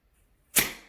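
An Edgun Leshiy 2 air rifle is dry-fired slowly with no pellet loaded, giving a single sharp hiss of escaping air that bursts in after a brief silence and trails off, close and alone.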